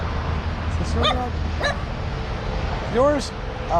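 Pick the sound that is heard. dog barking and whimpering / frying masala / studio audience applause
dog barking and whimpering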